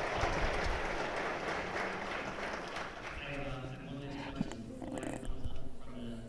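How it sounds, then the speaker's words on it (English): Audience applause following a conference keynote, a steady broadband patter of many hands over the full stretch with a murmuring crowd and some speech-like sounds mixed in, easing slightly toward the end. "A big round of applause for John."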